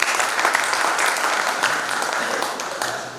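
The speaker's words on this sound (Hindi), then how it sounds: "आपकी तालियां करें।" An audience at a Hindi kavi sammelan poetry gathering in Ujjain's Kalidas Academy claps in a dense, continuous burst of applause that stays strong from start to finish.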